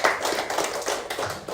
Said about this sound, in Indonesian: Tepuk tangan untuk Zahira